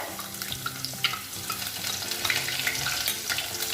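Fenugreek and chopped garlic fry in hot oil for fish molee, giving a steady close sizzle with scattered crackles and light stirring scrapes throughout, no voices.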